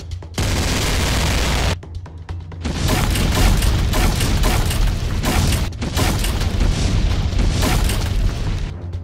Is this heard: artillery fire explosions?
yes